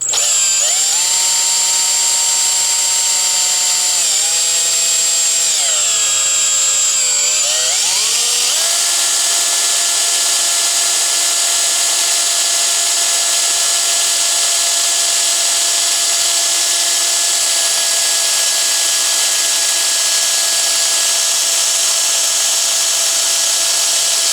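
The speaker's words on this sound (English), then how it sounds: "Again, your drill might walk a little bit, so be careful." A power drill whines loudly and steadily while drilling metal on a Saiga rifle, its pitch dipping and wavering under load for the first several seconds, then holding a constant high drone.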